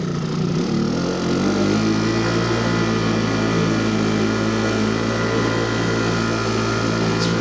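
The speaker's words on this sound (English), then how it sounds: "Once it gets warmed up, it idles very nicely." A 1960s Cary Jet outboard motor idles steadily once warm, a smooth, even, fairly loud drone with a constant pitch and no talking.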